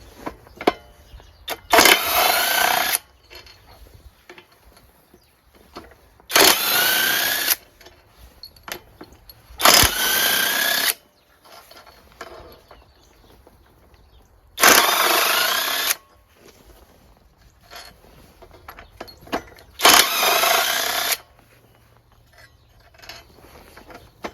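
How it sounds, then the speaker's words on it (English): A 1/2 inch impact wrench removes bolts from a Kohler Courage engine's cylinder head: five loud, separate hammering bursts of about a second each, with quiet shop gaps and small clinks between them. "Gonna need a 1/2 inch impact for that."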